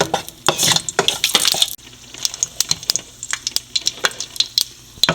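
Dried red chillies and mustard seeds crackle and sizzle in hot oil in a pan on the stove, with sharp popping clicks and light metallic stirring scrapes close by.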